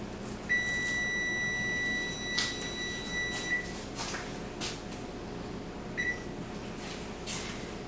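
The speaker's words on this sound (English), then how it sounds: "turn off the timer on your microwave." A microwave timer beeps in a long tone, then several short beeps follow, steady and electronic over faint room noise.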